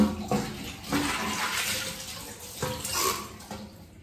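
A plate is washed by hand under a running tap, water splashing steadily with a few clinks and scrubbing bursts, close and fairly loud with no talking.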